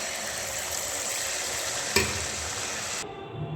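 Dhuska batter fries in hot oil in a karahi, a loud, dense sizzle with a brief clatter near the middle before the sound cuts off abruptly near the end.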